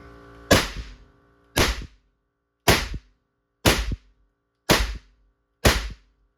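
A BinTac T50 .50 caliber airgun firing 235-grain pellets into ballistic gelatin: six sharp, loud reports spaced about a second apart, each a hard crack with a short decay, with near silence between shots.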